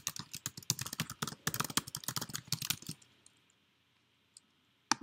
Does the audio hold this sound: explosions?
no